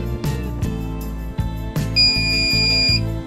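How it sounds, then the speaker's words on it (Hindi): CP Plus DVR giving its reset beep: a high electronic tone sounds for about a second over a loud repeating mechanical clicking and humming pattern close by. "इस बीप के साउंड का मतलब है कि आपका डीवीआर रीसेट हो चुका है।"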